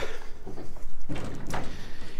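A shed's hinged ramp door swings open, giving a short series of scraping bumps and a solid thud.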